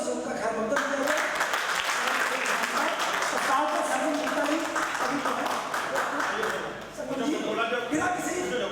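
An audience at a Hindi kavi sammelan poetry gathering claps to welcome a co-host, a sustained dense round of applause heard together with voices.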